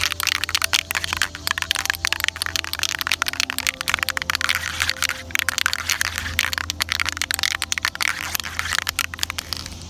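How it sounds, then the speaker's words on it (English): A can of spray varnish is shaken hard by hand, giving a rapid, continuous run of rattling, crackling clicks close up, with no talking. "So you have to shake the can."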